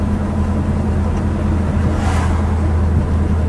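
A black 1957 Chevrolet Bel Air with fuel injection drives along, a loud steady low engine rumble with road and cabin noise throughout.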